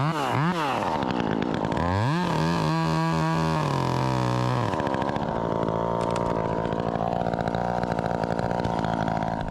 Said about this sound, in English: they're both the 540 gas saws. Really, really great power.